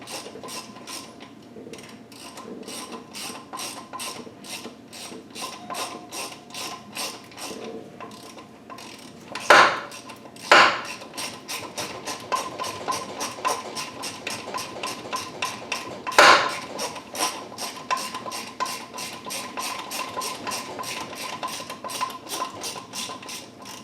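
Ratchet unthreading an engine mount bolt during a Nissan KA24DEAT engine rebuild, a long run of rapid close clicks with a few sharp metallic knocks.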